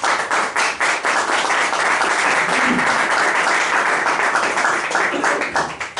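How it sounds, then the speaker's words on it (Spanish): A church congregation claps together in a steady, dense burst of applause that fills the room, holding at full strength for several seconds and tapering slightly at the end. "¿Alguien le puede dar una ofrenda de palmas al Señor?"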